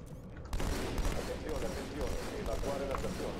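Rapid three-round bursts from a burst rifle in Halo 2 crackle continuously and loudly over dense game noise, with speech running underneath.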